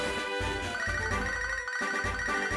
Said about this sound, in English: It's a very frantic phone call.